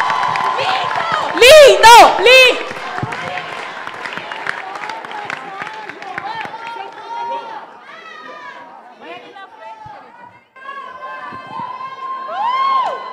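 An audience of young people at a public conversation with President Lula in Heliópolis, São Paulo, breaks into applause and loud cheering, with shouts and excited chatter. A voice calls out over the crowd, which then settles into lighter murmuring.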